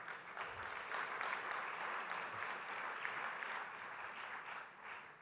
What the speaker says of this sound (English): I think a loud round of applause is in order